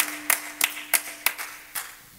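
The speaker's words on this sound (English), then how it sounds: "Let's give God a hand clap of praise for the great things God has done." Church congregation clapping in praise, five or six distinct, evenly spaced claps that fade out, heard close with no voices.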